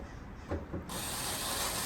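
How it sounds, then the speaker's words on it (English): Phillips head screws are driven into a Kenmore Elite dryer door, producing a close ratcheting, rubbing mechanical grind that gives way to a steady, bright hiss. "we're gonna mount the 4 Phillips head screws into the door"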